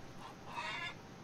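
Chickens and a rooster cluck softly in the Farmers Dynasty video game, a faint, brief burst of fowl sounds against background noise.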